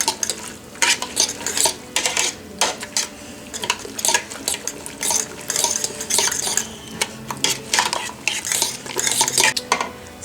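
A spoon clinks and scrapes repeatedly against a pot as a blueberry wine mixture is stirred, in quick irregular metallic strokes close by, with no talking.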